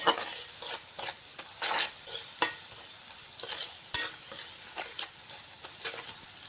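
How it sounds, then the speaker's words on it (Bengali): A spoon stirs turmeric through hot oil in a pan, with scraping strokes in an uneven rhythm over a soft, steady sizzle, close and clear with no talking. "দিয়ে ভালো করে নেড়ে চেড়ে নিতে হবে"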